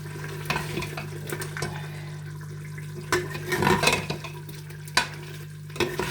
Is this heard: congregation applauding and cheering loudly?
no